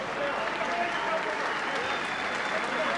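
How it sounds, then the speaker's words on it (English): Boxing arena crowd applauding the challenger Paul Knight, a dense, steady wash of clapping and crowd noise throughout. "And a round of applause, please, for the challenger,"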